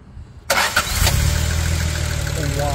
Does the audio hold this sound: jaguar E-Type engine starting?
yes